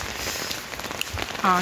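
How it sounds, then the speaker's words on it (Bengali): Dense, steady hiss of rain pouring down hard, drumming on surfaces close by, with no pauses. "এই যে মুসুলধারা বৃষ্টি হচ্ছে"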